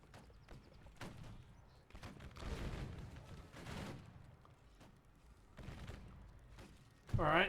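Musket gunfire in a Civil War battle video game, scattered distant shots and muffled volleys over several seconds with a sharper burst near the end.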